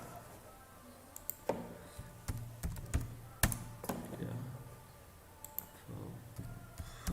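Soft, irregular clicks and taps of keys on a computer keyboard while writing Python code, quiet and close, with occasional sharper keystrokes and faint background noise.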